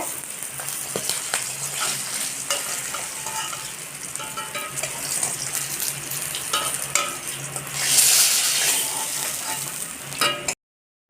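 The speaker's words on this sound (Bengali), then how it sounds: "তেলে আলু দিয়ে দেবো তো আলুটা আগে ভেজে নেব" Steady, loud sizzling and crackling of potatoes frying in hot oil, continuous throughout with a brief surge of spitting near the end.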